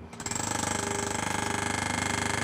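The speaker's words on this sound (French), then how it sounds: "les ouvriers brisent la dalle de béton à coups de marteau-piqueur" Workers break up a concrete slab with a jackhammer, a fast, regular hammering rattle that runs continuously at moderate loudness after a brief start.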